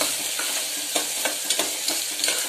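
Finely chopped onion fries in hot oil for a soybean pulao, giving a close, steady sizzling hiss broken by a few scraping stir strokes, with no voices.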